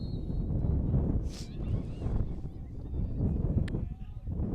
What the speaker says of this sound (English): Winds have been gusting above 20 miles an hour the entire game